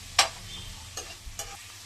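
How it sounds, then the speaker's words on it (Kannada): Broccoli frying in a pan gives a faint background sizzle broken by a few quick spatula scrapes and tosses over two seconds. "ಇದನ್ನ ಒಂದು ಸ್ವಲ್ಪ ಫ್ರೈ ಮಾಡ್ಕೋಬೇಕು."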